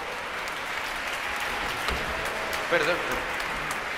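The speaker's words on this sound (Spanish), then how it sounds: "A ver, un aplauso para ellos" Audience applause at an educational concert, a steady moderate patter of clapping that continues throughout, with a brief spoken word near the end over it.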